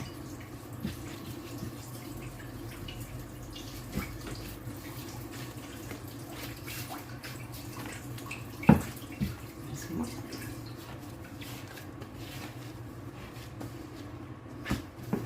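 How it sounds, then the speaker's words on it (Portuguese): A kitchen tap runs a thin, steady stream of water while bread dough is being prepared, a soft continuous trickle with occasional small clinks nearby. "Deixar ali caindo um pouquinho de água para poder soltar."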